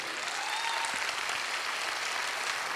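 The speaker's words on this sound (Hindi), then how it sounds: "एक बार फिर जोरदार तालियां होना चाहिए संजीव सर के लिए" An audience at a wellness company celebration event applauds in a steady, even wash of many hands, fairly distant and without talk over it.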